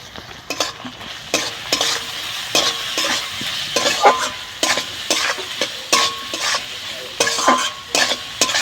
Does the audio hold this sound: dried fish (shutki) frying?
yes